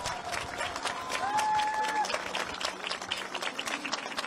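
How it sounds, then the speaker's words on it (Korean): Audience applause fills a political rally in Korea, a sustained wash of clapping from a large crowd lasting the whole stretch, with a brief tonal sound briefly rising above it. "박수 부탁드리겠습니다"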